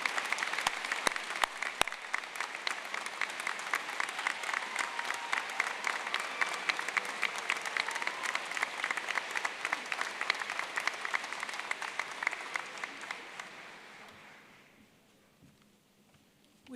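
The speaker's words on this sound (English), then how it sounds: "please join me in giving another round of applause to the class of 2024" A graduation audience gives the class of 2024 a long round of applause, dense sustained clapping from a large crowd that holds steady for about fourteen seconds before fading out into near silence.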